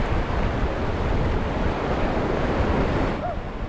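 Warm-water surf washing onto a beach at Baler in the Philippines, a loud, steady rush of breaking waves mixed with wind buffeting the microphone.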